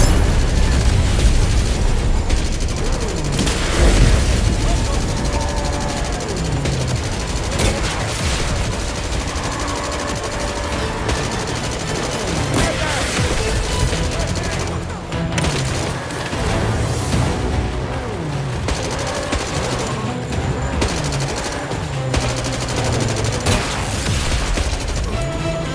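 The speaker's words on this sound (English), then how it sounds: "Grenade away. Missiles armed and loaded." Dense video-game combat from 007 First Light, with a grenade and missiles firing amid rapid continuous gunfire, booms and explosions layered throughout, loud and unbroken from start to finish.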